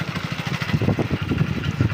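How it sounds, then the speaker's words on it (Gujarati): A motorcycle engine idles low and steady while the bike is parked at a sightseeing spot in Vadnagar, a continuous close rumble with no talk over it. "સૌથી પહેલાં આપણે બાઇક પાર્ક કરી દઈશું અહીંયા."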